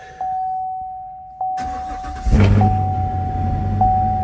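A Chevrolet Camaro SS is started up close: a high chime tone sounds, the starter cranks and the engine catches with a loud roar around the middle, then settles into a steady rumbling idle while the chime continues.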